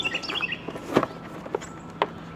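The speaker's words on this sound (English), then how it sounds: "Sorry for all the birds." Small birds chirp and tweet intermittently nearby, with quick high twitters early and a few isolated calls over a quiet indoor background.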